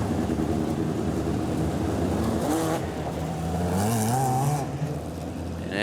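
F2 midget race cars running on methanol roar around a track at a Boxing Day feature race, engine notes rising and falling as they accelerate, loud and continuous, with no talk over them.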